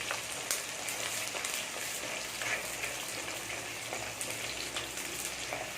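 Green chillies sautéing in hot oil in a pan for Tamil anchovy fish curry (nethili meen kuzhambu), a soft continuous sizzle and crackle with occasional stirring scrapes, fairly quiet and close.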